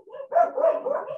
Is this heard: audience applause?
no